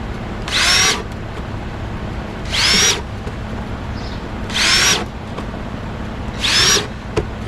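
A power drill boring holes through a plastic garden container, four short whining bursts evenly spaced about two seconds apart, loud and close, with quiet gaps between them.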